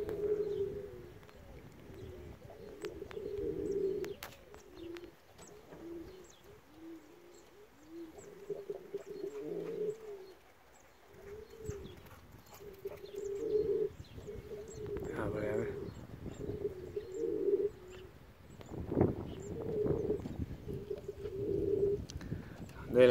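A black pigeon coos in repeated low, soft phrases, fairly close, with voices talking around it and some shuffling noises throughout.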